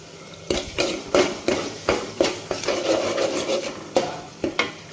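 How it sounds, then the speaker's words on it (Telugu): A spoon scrapes and clinks against a pan as onions are stirred with ginger garlic paste for a drumstick and tomato curry, in a steady series of sharp strokes over a soft sizzle. "మూత ఓపెన్ చేసి ఒకసారి ఆనియన్స్ని ఇలా కలుపుకోవాలి."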